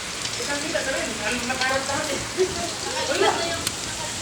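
Steady rain hisses down in a dense, continuous wash, loud and close, with a few faint voices mixed in beneath it.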